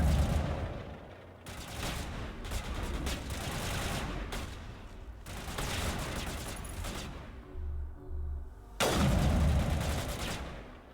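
Video game gunfire from Mass Effect: heavy bursts of rapid shots in loud, dense volleys with brief pauses between them, a final burst at the end, no talking.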